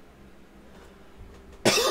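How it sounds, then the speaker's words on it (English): A single sharp cough bursts out near the end, loud and close, from a commentator with a cold during a League of Legends esports match, after a stretch of quiet low background. "Excuse the coughing"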